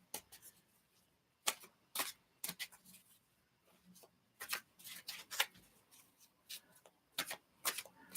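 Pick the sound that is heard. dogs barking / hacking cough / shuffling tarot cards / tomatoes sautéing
shuffling tarot cards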